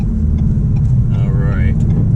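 A turbocharged Ford Bronco Sasquatch engine rumbles steadily and builds in pitch as it accelerates, with a rising whine near the end, fairly close and continuous.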